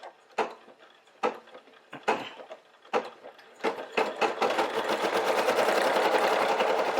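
A Brother SE1900 embroidery machine starts stitching an Easter basket design, with a few separate mechanical clunks at first, then a steady fast rattling hum of stitching that runs on continuously, close and moderately quiet.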